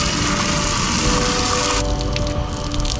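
A car wash wand sprays soap onto a Toyota minitruck with a loud, steady pressurized hiss and pump hum, the spray shifting to a softer, foamier spatter partway through; no one speaks.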